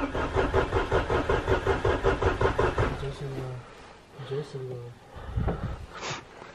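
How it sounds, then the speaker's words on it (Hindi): Vehicle engine cranking in freezing winter cold at Spiti, with antifreeze added: a loud, rhythmic, labored cranking pulse, close by, that falters and stops after about three seconds, followed by quieter sputters, with people talking over it. "मैं देखता हूँ गाड़ी स्टार्ट करके होती है कि नहीं"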